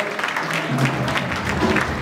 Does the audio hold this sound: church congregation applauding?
yes